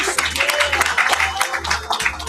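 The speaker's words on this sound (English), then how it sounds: "So I thought I'd just give you a round of applause and thanks for joining us tonight," A Laravel PHP meetup crowd in Sydney gives a round of applause, a dense, continuous wash of many hands clapping at moderate loudness with faint voices mixed underneath.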